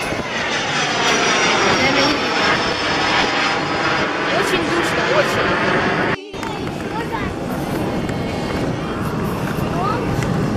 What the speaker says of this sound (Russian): Самолеты в небе летают.